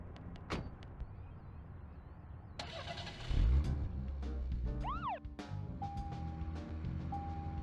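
A car in the video game Deadly Premonition: a door thuds, the engine cranks and starts with a loud rumble, then settles into a steady idle and drive with a few electronic chirps and tones, with no one talking.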